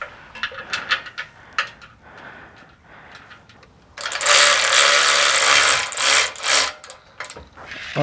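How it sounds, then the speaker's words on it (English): Ratchet tightening a bolt into a riv nut on a Goliath Offroad rock slider for a GX470, with rapid, close clicking bursts, then a louder sustained stretch of dense ratcheting. "tightening that one down next"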